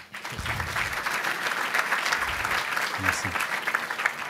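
Audience applause at a French conference session, a steady dense wash of clapping that fills the room throughout, with a voice briefly speaking near the start.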